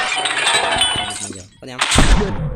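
Glass shatters in the video game My Friend Pedro, a short crash with clinking shards about two seconds in, heard under the game's audio and an excited voice talking.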